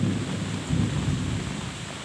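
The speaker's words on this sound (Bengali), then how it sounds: "রহমতের বৃষ্টি দ্বারা" Heavy rain in a thunderstorm pours down with a steady wash, and a deep rumble of thunder rolls underneath throughout the short stretch.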